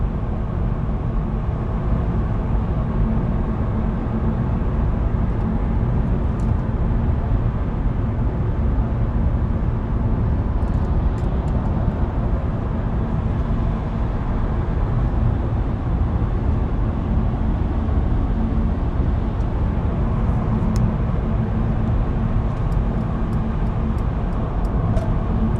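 Steady low road rumble and tire roar fill the cabin of a Mercedes EQV electric van cruising in the left lane of a highway, a constant drone with faint occasional ticks and no voices.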